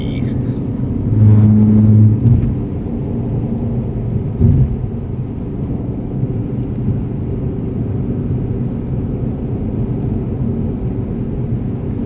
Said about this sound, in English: This car feels nice and tight in Sport Plus mode, nice and loud.